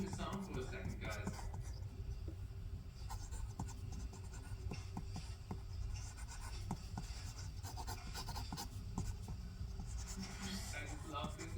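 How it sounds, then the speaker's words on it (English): A G pen nib scratches and rubs across paper while inking a manga page over a rough sketch, giving a close, steady stream of fine scratchy strokes with quiet faint murmurs underneath. "I just love listening to pencil scratching on paper, and these G pens, they definitely have the most satisfying sounds of all of them"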